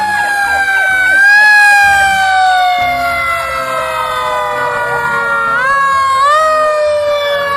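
Red toy fire truck siren wailing loudly and close, a continuous electronic tone gliding up and down in repeated sweeps, with faint background noise underneath.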